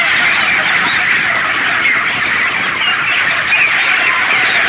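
A flock of chickens clucks and murmurs continuously at a farm, a dense, steady chorus of overlapping calls close by with no speech.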